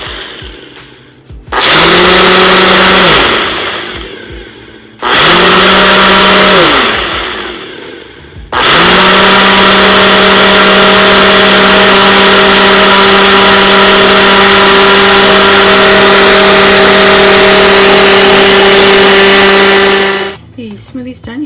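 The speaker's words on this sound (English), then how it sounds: "Now I'll show you, this is the Ninja. You just hit smoothie," Ninja blender running on its smoothie setting, blending blueberries: two short loud bursts of whirring motor, then one long steady high-pitched run of about twelve seconds that cuts off abruptly.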